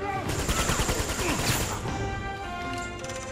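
Rapid bursts of gunfire from the video game Uncharted 2, loud clustered shots and rattling volleys in the first half that fade into quieter game ambience, with a voice talking faintly underneath.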